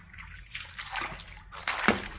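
Floodwater from a typhoon splashing and sloshing at a cemetery being cleaned, a few close irregular splashes with bright spray between quieter moments.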